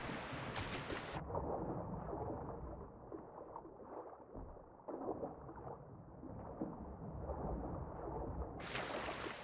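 Thunderstorm in the Project Castaway survival game: steady rain and low rumbling thunder fill the scene, with a brief bright crash at the start and another near the end, no talking.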